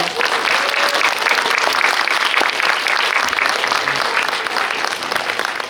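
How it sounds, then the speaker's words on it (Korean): A cinema audience at a Korean film screening with a guest Q&A gives loud, dense applause that stays at full strength for several seconds as the guests leave. "세 분 퇴장하실 때 큰 박수 부탁드리겠습니다."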